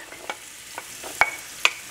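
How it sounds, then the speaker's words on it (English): Onions sizzle and crackle gently in hot oil in a pan for rice pilaf, with soft intermittent pops and stirring scrapes over a steady low frying hiss. "I'm going to add them and start frying them up."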